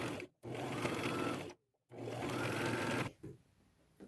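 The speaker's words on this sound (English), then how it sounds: "sew at the very edge, overlapping oh, quarter to half an inch all the way around" A sewing machine stitches along the edge of a hood made from an old nightgown and scraps, running in two buzzing bursts with a short pause between, then slowing to a stop; close and fairly quiet.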